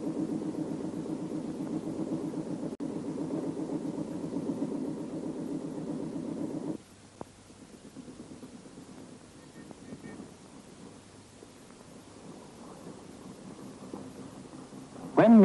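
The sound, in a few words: motorboat engine running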